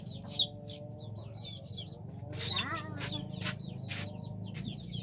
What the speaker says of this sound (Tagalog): Ang mga manok murag buang dani sa dani gid sila ganahag itlog sa amo